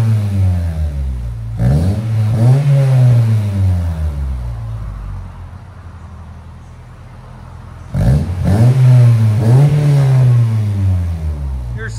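Revving of a 1997 Honda Prelude 2.2L engine fitted with headers and a Skunk2 Mega Power cat-back exhaust. Two loud rev bursts rise and fall, separated by a steadier idle drone.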